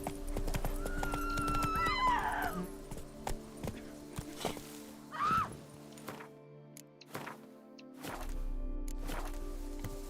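Hooves of the horse Roach clip-clop in The Witcher 3 game, irregular thudding steps mixed with a loud whinny early on and another neigh midway, against a humming game soundscape.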